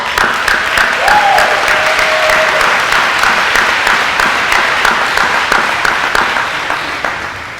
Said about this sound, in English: Let's give each of you a round of applause.